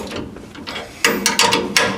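A ratcheting wrench tightening leaf spring clamp bolts on a demolition derby car, giving a quick series of sharp metallic clicks in short back-and-forth bursts that are close and clear, with no talking.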